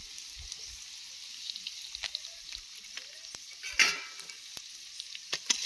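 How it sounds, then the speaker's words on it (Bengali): Spices and Kashmiri red chili powder being stirred and fried for a catla fish curry, a soft steady sizzle with intermittent utensil scrapes and clicks, close up and without talk. "লাল লঙ্কার গুঁড়োটা দিয়ে কিছুক্ষণ নাড়াচাড়া করব"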